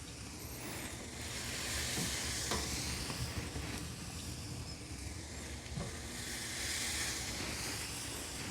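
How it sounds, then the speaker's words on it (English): Chicken drumsticks sizzle on the hot grate of a Hasty Bake Legacy smoker running around 300 degrees, a steady broad frying hiss with faint clicks from placing the pieces. "So now let's get these drumsticks on the pit."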